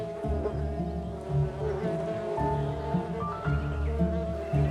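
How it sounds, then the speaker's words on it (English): Bees buzzing around a nest in the Carpathian wilderness, a continuous droning hum with wavering pitch and small swells, moderately close, with a faint rustle in the background. "She's heard the buzzing of bees"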